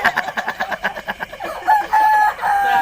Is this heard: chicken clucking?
yes